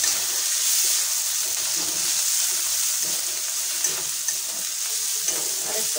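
A chicken patty filling with cumin and chili powder sizzles steadily in a pan, a bright continuous hiss close up, with a few faint scrapes and clinks as it is stirred and no talking.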